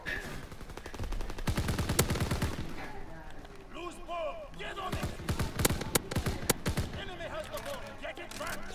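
Rapid bursts of gunfire and single pistol shots ring out in a WW2-themed video game match with a soccer mode, loud and dense at first, then scattered, with a player talking over the shots.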